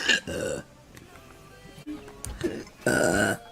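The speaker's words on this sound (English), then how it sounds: "There's your burp." A woman lets out two loud, drawn-out burps, one at the start and one near the end, with quieter vocal sounds between them.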